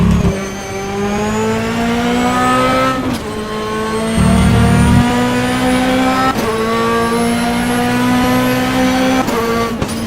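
A GT2 race car engine at Mount Panorama in rFactor, loud and close, revving up through sustained pulls with sharp gear changes and blips roughly every three seconds, including a downshift.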